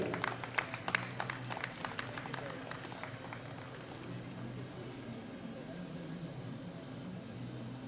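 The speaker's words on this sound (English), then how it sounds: "Big round of applause for Zach Toe." A crowd at a powerlifting championship medal ceremony claps in a burst of applause that tapers off over a few seconds into a steady hall ambience.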